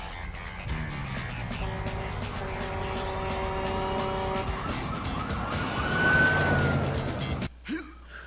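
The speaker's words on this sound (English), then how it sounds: "It's just a fire truck." A fire truck siren blares loudly over heavy traffic noise, with a wailing tone sweeping up and down and tires squealing, ending in an abrupt cut to near silence.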